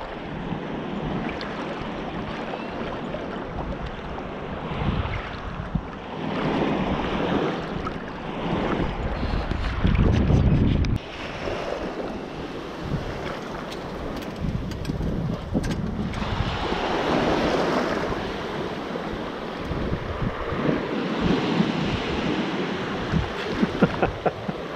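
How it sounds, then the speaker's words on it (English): Steady breezy wind rushes across the microphone outdoors near water, with gusts swelling and easing throughout and a louder buffet around the middle. "A little breezy, but nice."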